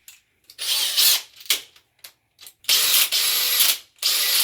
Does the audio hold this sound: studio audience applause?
no